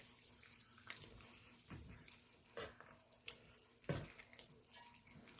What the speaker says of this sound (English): Now for liquid, I'm adding a 12-ounce bottle of beer.